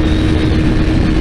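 A BMW G310R motorcycle accelerates in fifth gear on the road, giving a loud, steady engine drone with rushing wind and no talk.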